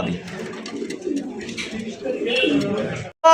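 Domestic pigeons from a top-quality pair murmur low, throaty coos that ripple continuously and close by, ending in an abrupt cutoff and a brief louder burst.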